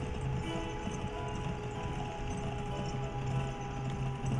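Steady clip-clop of horse hooves in the video game Gun, even and continuous, over a constant low background hum.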